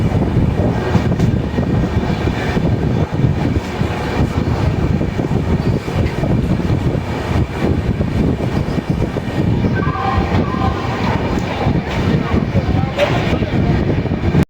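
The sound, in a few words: Cholan Express passenger train arriving at Tambaram station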